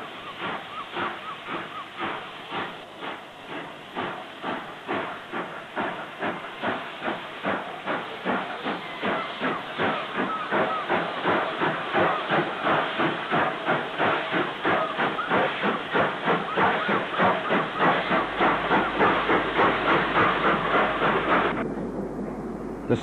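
An 82000 class steam tank locomotive heads south past the platform at Barmouth station, its loud, even exhaust beats hissing in a long rhythmic run that quickens slightly. The beats stop abruptly near the end, leaving a low rumble.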